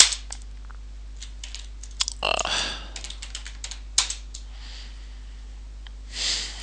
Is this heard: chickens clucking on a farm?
no